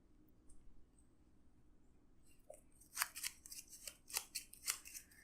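Cards are shuffled into an Arkham Horror card game exploration deck, starting after a quiet stretch with a burst of crisp, close flicking and snapping sounds in uneven bursts.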